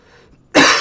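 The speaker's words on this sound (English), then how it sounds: "Sorry if you're wearing headphones and that cough was very loud." A single loud, sudden cough bursts in close to the microphone after a quiet stretch, sharp at onset and sustained briefly.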